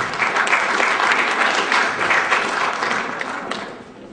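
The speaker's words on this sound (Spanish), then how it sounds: "para quien solicito un fuerte aplauso" A seated audience at a lecture on juvenile offenders gives a strong, sustained round of applause to welcome Dr. Raúl Marcelo Araque, the dense clapping holding steady and easing slightly toward the end, with no talk over it.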